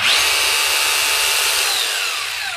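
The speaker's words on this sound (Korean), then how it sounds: "지금 요거는 이제 한마디를 모드로 한번 돌려보면요" A Makita HR3011 rotary hammer drill runs in hammer mode, a loud, steady high-pitched motor whine with a fine hammering buzz underneath, sustained throughout and easing slightly toward the end.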